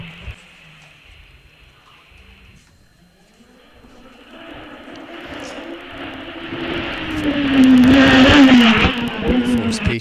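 Single-seater racing car climbing the Wiscombe Park hillclimb course in a British Hillclimb Championship round: a distant engine note swells into a loud, high revving roar as it passes, with a commentator talking throughout.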